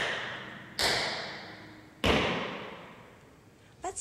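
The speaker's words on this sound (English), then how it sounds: "the toe knock only utilizes the very tip of your toe tap." Tap shoe toe knocks struck on a floor during a home tap class: two sharp, separate knocks a little over a second apart, each ringing out and fading, with a faint third tap at the end.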